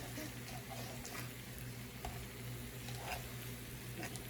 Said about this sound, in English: Let those fry for a bit